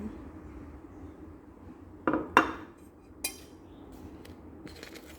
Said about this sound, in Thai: แล้วมาคนให้มันเข้ากัน